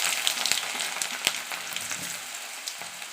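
Small pieces of chopped ginger frying in hot oil in a pan with cloves, cardamom and mace, giving a steady close sizzle with crackling pops throughout and no talk.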